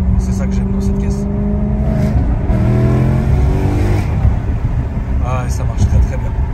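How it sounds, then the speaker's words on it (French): A car engine revs up loudly nearby, its pitch climbing in smooth surges as it accelerates, with a steady road rumble underneath. "on a ce moteur qui développe une belle poussée et ça marche très bien"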